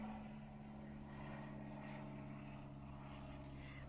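A small propeller airplane flies near a private airfield, its faint, distant engine drone holding steady throughout with no voices.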